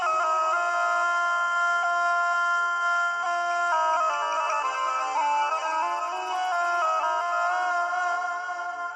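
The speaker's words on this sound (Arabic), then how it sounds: "انا التليفون بيرن" A telephone ringing continuously with a bright electronic ringtone melody, loud and close, playing on its own without voices for several seconds.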